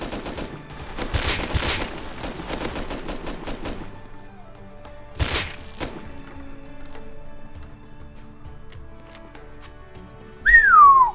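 Rapid automatic fire from an LR-300 rifle in the Rust video game, a dense burst of loud cracking shots early on, then a single sharp report mid-clip and a rising whistle near the end over a low ambient hum.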